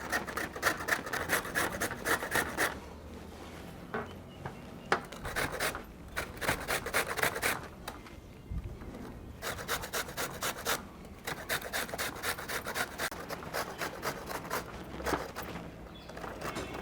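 Peeled raw mango being grated on the large side of a grater, making steady, rhythmic rasping strokes up close that continue with only brief pauses.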